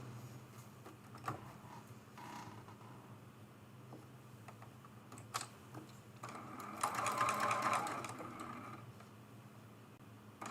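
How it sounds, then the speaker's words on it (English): A sewing machine stitches a fabric strip onto a quilted table runner in short bursts, stopping and starting, with a longer steady stretch of stitching near the end, close by. "We're going to move the camera back over to the sewing machine, and we're going to add this strip in there."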